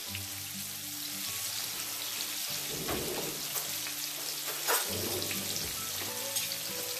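Sardines frying in a dry pan with no fat, a steady close sizzle and crackle running throughout with occasional louder spits and utensil stirs.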